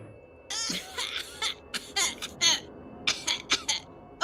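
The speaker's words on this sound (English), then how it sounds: "I'll just keep coughing" A person coughs repeatedly in short, harsh bursts during a tabletop horror role-playing session, the coughs coming in irregular clusters, close and fairly loud, with a faint background hum between them.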